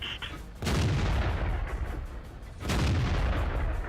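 Tank cannon shots from a T69 in World of Tanks, with two heavy booming blasts about two seconds apart, each followed by a long rumbling decay, loud and close with no talk.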